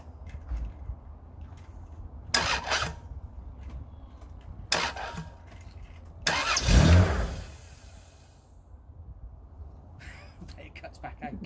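A Rover 800 with an ignition switch fault cranks and briefly catches in several short bursts, then surges louder before cutting out, heard nearby with a person talking throughout.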